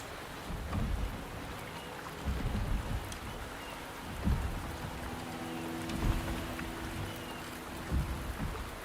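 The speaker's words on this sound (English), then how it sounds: "The rain is subsiding, and the sky will soon clear." Steady rain in the video game Wuthering Waves, a dense wash of falling drops with a low rumble beneath and a few heavier thuds. It plays alone at moderate level for the whole stretch.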